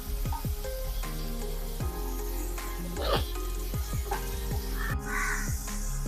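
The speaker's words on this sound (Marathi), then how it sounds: "मीडियम गॅसवरती कांदा छान परतून घ्यायचा आहे" Onion sautéing in a pan over medium gas gives a steady low sizzle, while repeated crow caws ring out loudly over it.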